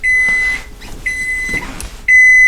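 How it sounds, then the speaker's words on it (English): Three loud, steady high-pitched electronic beeps from a Toshiba microwave oven with smart sensor, each lasting about half a second, separated by brief gaps with faint rustling between. "Want to hear the beep?"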